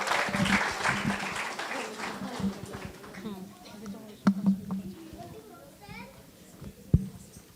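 A church crowd applauds at a ministries program in Sharjah while children's voices chatter throughout, with the clapping fading into scattered sounds.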